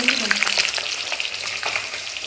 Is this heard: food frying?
yes